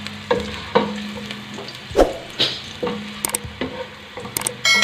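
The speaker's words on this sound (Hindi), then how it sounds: "बस इसकी खुशबू के लिए इसको थोड़ा सा हम फ्राई कर लेंगे।" Chicken pieces frying in a little oil for yakhni, crackling and sizzling in the pan while being stirred, with sharp spatula knocks and scrapes scattered throughout.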